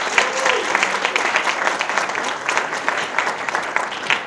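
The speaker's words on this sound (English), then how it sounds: "Give them a round of applause." An audience at a summer jobs program awards ceremony claps for several seconds, a dense crackling applause with a few sharper individual claps and faint voices mixed in.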